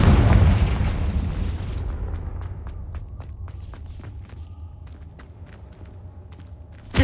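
A Confringo spell explosion in Hogwarts Legacy sets off a loud booming blast that rumbles and slowly fades, followed by scattered light clicks and taps and a sharp hit at the very end.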